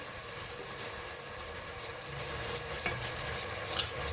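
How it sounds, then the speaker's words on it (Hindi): Four onions fry in oil with cumin seeds, giving a steady, close sizzle that crackles evenly throughout, with one sharp pop near the end. "मैंने 4 अदद प्याज लिए हैं और उनको मैं फ्राई करने लगी हूँ ऑयल डाल के"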